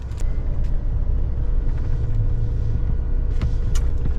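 Low, steady engine rumble of a truck pulling away after unloading lime, heard from inside the cab, with a few faint clicks and squeaks over the drone.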